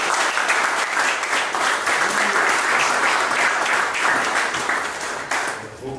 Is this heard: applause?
yes